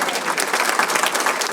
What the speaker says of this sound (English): And I ask you to give her a round of applause for that.